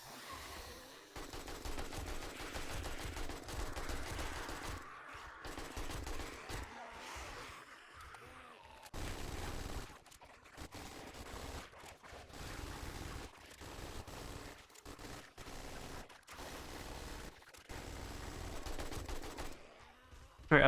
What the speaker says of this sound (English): I've been shooting almost constantly all night and I feel like I'm still gonna have leftover ammo